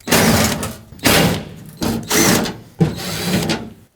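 A power driver runs in four bursts about a second each, each spinning briefly then stopping with a clack, while T30 Torx bolts are removed from the tailgate panel of a 1998-2011 Ford Ranger. Close and loud, no talking.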